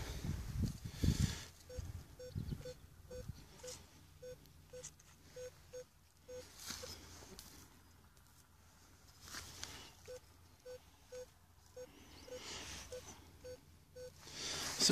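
A metal detector gives a series of short, evenly spaced electronic beeps over faint rustling and scraping of digging, pausing briefly midway before the beeping resumes.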